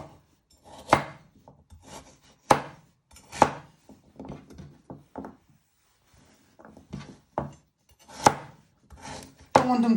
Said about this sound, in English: And you're just chopping them into little pieces.